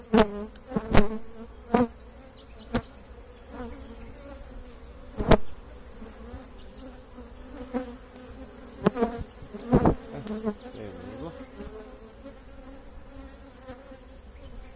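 Honeybees buzzing during a hive inspection form a steady close drone, broken by sharp knocks and clacks of frames being handled; a voice speaks briefly.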